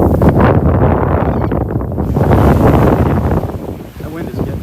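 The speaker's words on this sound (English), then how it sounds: "That wind is getting strong now." Strong, gusty wind buffets the microphone on a beach at Delnor-Wiggins, a steady roaring rush with rising and falling gusts.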